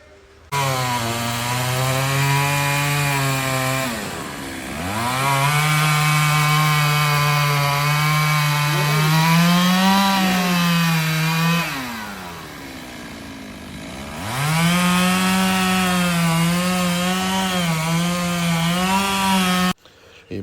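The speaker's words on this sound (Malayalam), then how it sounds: "നമ്മളെ ഫയർഫോഴ്സിൻ്റെ ആൾക്കാർ അവിടെ നിന്ന് റിസ്ക് എടുത്ത് മരം മുറിക്കുകയൊക്കെ" A chainsaw roars loudly and close while firefighters cut a fallen tree, its engine holding high during long cuts and dropping briefly to idle twice between them.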